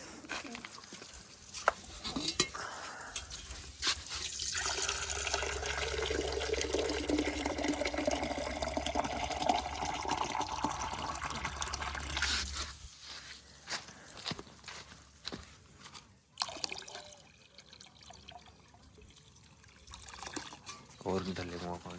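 Water pours into a container with a rushing sound whose pitch rises as it fills, then stops; people talk and move about nearby.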